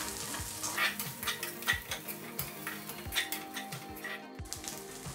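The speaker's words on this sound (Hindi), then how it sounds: "इन सबको 2 मिनट के लिए अच्छे से भून लेना है।" Whole spices with white sesame seeds and poppy seeds dry roasting in a pan for Patwadi Rassa, a faint steady crackle with repeated soft scraping and stirring clinks of a utensil against the pan, and no talking.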